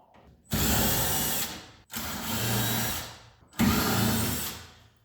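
Power nut driver whirring in three loud, close bursts of about a second each while a fastener is run off a 1980 Plymouth Volare, with brief pauses between bursts.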